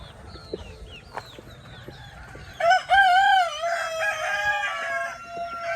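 Chickens on a farm cluck in short scattered calls, then a rooster crows loudly and close, its long wavering call overlapping with further crowing and clucking from the flock.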